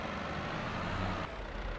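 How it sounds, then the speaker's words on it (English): Vehicle brakes in Farming Simulator 22 let out a hiss over a running engine drone, followed by a sudden drop as the sound cuts partway through. "The old brakes. Need a bit of work."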